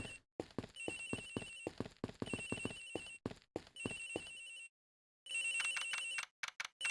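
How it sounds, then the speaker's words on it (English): Telephone ringing in a video game, set on a plane, rapid repeated electronic ring bursts in steady rhythm, broken by a brief silence before the ringing resumes. "Sounds like the phone is up in the flight attendant's room."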